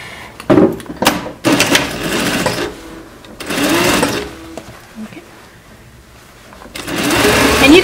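A sewing machine back-tacks the seams of a homemade fabric face mask in bursts of loud, close whirring stitching that stop and restart several times.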